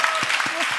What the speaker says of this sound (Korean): 그래서 박수 한번